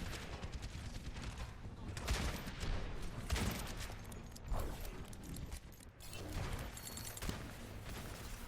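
Dense bursts of video game shooter gunfire crackle steadily through the clip, with a headshot among the rapid shots, mixed under voices talking.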